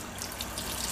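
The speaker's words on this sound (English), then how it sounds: "So what I'm doing is I'm running tepid water" Tepid tap water runs steadily over frozen tomatoes in a sealed bag, a continuous close splashing trickle with no talk.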